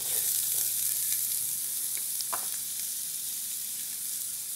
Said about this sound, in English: Now that my oil is hot, I'm going to add in my onions,